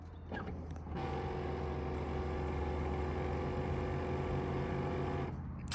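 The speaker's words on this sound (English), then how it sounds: "get ready to rebuild your headlight motors because they love to strip the little plastic gear on the inside, and then they'll start making noise like this" A C5 Corvette headlight motor with a stripped plastic gear inside runs with a steady, close whirring drone, a continuous grinding mechanical hum lasting about five seconds without speech.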